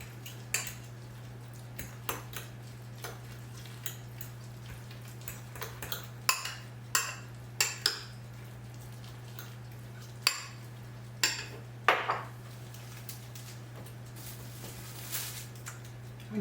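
A spinach and feta cheese filling for Greek spanakopita is stirred in a bowl, with scattered clinks and taps of a utensil against the bowl, faint and close, over a steady low hum.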